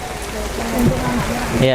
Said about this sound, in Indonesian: Ini hujan pemirsa. Kondisinya hujan.